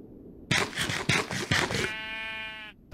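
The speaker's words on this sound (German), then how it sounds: "Da ist ein schwarzes Schaf." A black sheep in Minecraft gives a short bleat: a few broadband bursts, then a steady buzzing tonal cry, loud and close, with no other sound around it.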